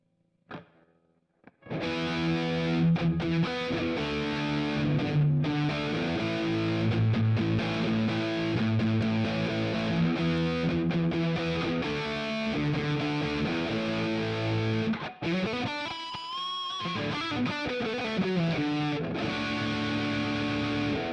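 Overdriven Squier HM III Super Strat electric guitar on the bridge pickup playing sustained distorted chords and notes, loud and continuous, with a brief dip and a bend partway through.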